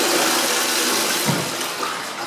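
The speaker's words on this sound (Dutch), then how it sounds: "Ik ga doortrekken, jongens." A toilet flushes up close with a loud, steady rush of water that holds and slowly fades, ending in a short knock.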